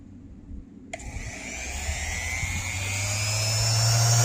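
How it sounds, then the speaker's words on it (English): A HYCHIKA orbital sander switches on after a second of quiet and runs steadily, its motor whine and low buzzing hum building slightly in loudness, close and alone with no talking. "Let's get the orbital sanding with the HYCHIKA."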